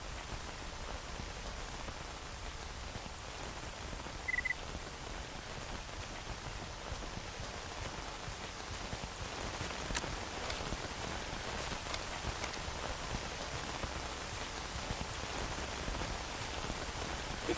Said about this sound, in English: If this rain wrecks my camera lens, I will be pissed.